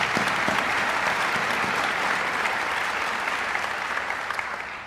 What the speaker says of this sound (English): But let's give him a round of applause.